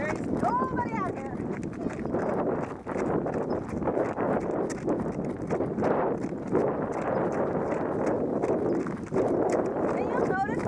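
A horse clip-clops along a trail during a horseback ride outdoors, hooves plodding steadily and close under light wind noise, with birds chirping briefly at the start and end.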